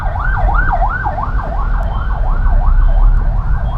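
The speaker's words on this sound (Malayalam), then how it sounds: "തൃശ്ശൂർ എത്തിയിട്ട് ഒരു ആംബുലൻസ് വന്നിട്ടുണ്ട്." An ambulance siren wails in a smooth, repeating rise-and-fall cycle, loud and close in road traffic, with a low engine rumble underneath.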